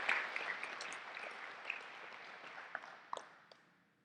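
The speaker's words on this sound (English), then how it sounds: "So give her a round of applause" Audience applause at a Wayne County bicentennial luncheon, a dense burst of many hands clapping that starts at full strength and gradually thins and fades out over a few seconds.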